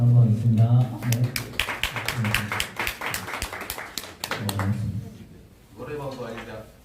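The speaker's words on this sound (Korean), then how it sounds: "그래도 박수 함께 시작하도록 하겠습니다" An audience at a labour meeting on long working hours claps together to open the session, a flurry of sharp hand claps mixed with and followed by speech.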